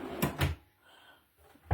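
A storage drawer in a small home craft room slides open or shut, giving two quick knocking thuds, a quiet pause, then another thump at the end.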